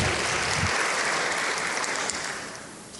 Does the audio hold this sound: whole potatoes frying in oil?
no